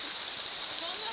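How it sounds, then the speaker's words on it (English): Steady, dense hiss of rain falling in the Borneo rainforest, close and continuous, a wash of drops with no distinct pauses or breaks. "It's raining."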